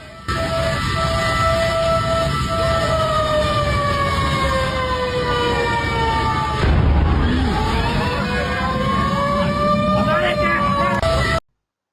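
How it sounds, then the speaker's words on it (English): A fire truck siren wails steadily, its pitch sliding up and down in long sweeps over a constant rumble of traffic and street noise. "the sound of whispers and fire truck sirens added to the intense atmosphere"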